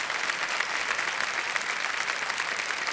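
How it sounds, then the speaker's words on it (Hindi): Studio audience applause on the quiz show KBC after a contestant wins 25 lakh rupees, an even, continuous wash of many hands clapping at moderate distance, steady throughout with no voices standing out. "तालियां बज जाए इनके लिए।"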